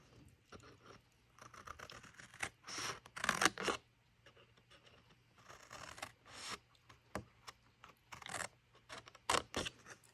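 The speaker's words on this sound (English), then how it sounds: "the next thing to do is just cut all these side score lines" Scissors cut along score lines in paper for a small truffle box, making quiet, close, irregular snips and crinkles in short clustered bursts separated by pauses, with no voices.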